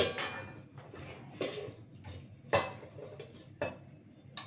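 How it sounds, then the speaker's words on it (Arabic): Dough being mixed by hand in a bowl for Moroccan ghriba hamawiya cookies made without flour, butter or oil, giving soft, irregular squelching and scraping with a few sharper knocks against the bowl, close and alone, no talking. "غادي نخلط ونرجع معكم. نخلط بيدي."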